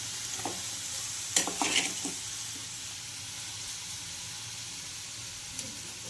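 Peanut-filled karanji pastries fry in hot oil with a faint, continuous sizzle, broken by a few soft clinks and scrapes early on.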